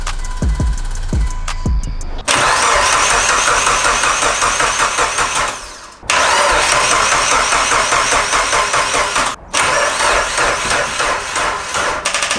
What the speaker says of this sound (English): I tried to crank it a couple times and it didn't really sound like it was gonna start